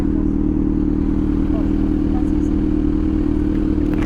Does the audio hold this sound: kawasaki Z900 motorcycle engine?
yes